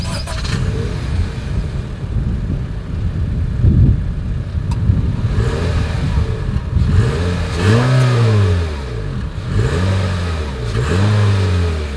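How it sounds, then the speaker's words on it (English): A 2020 Honda HR-V exhaust idles at close range, then the engine is revved several times, each rev rising and falling in a smooth swell, ending in a final rev and drop. "As always, here is that exhaust clip."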